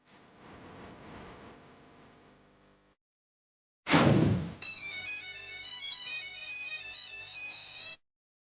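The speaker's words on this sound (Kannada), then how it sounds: "ರಿಂಗ್ ಆಗ್ತಾ ಇದೆ, ಯಾರು ರಿಸೀವ್ ಮಾಡ್ತಾ ಇಲ್ಲ." A phone rings on and on without being answered, its electronic ringtone warbling steadily and fairly loud after a brief burst of noise, with no one speaking.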